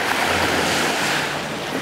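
Surf washes up on a sandy beach at Grand Beach, a loud, continuous broadband rush of breaking water mixed with wind noise, with no voices.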